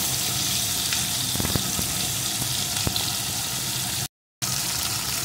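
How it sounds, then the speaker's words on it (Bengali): Fish frying in hot oil and being turned from side to side, a steady loud sizzle that runs throughout with a few faint clinks, broken by one brief gap of silence. "মাছগুলোকে এপিট ওপিট করে একটু ভেজে নেব"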